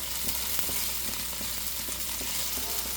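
Okra stir-fry sizzling steadily in a pan over high heat, a dense continuous hiss with faint clicks of stirring now and then, close and alone.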